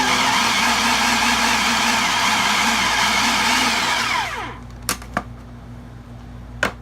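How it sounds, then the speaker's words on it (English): A food processor pulses to chop hard-boiled eggs for a Creole Cajun creamy potato salad, a loud continuous motor whir that winds down, followed by a few short knocks. "Just give it a good few pulses to chop up the eggs."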